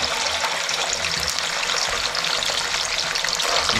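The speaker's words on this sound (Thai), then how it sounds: "ผมจะทอดหัวกับหางก่อนนะครับ" The head and tail of a large fish fry in hot oil, giving a dense, even, close sizzle that holds steady and loud with no talking over it.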